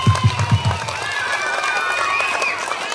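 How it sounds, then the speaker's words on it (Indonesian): An audience claps and cheers for school prize winners at a report-card ceremony, a few loud thumps at first and then steady crowd noise with people talking over it. "beri tepuk tangan yang meriah kepada para juara."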